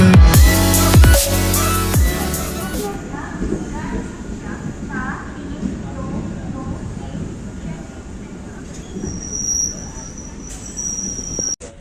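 Pattabiram local suburban train pulling out of Chennai Central platform 13, a loud rumbling start that settles into a steady rolling clatter of wheels with faint squeals and background voices.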